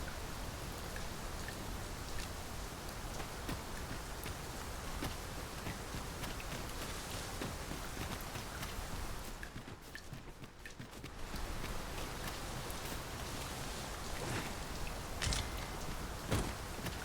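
Steady rain pours in the video game Dragon's Dogma 2, a dense, constant hiss of falling drops with a brief lull partway through, heard alone without voices.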